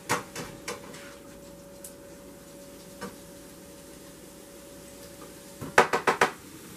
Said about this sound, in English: And give it a pretty good stir.